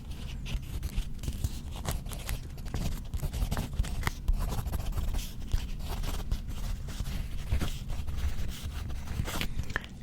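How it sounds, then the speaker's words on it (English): Steady dry scratching and scraping, like a pencil rubbing back and forth on paper, close and continuous with small irregular strokes. "I will just make rubbing sounds with the pencil on the paper."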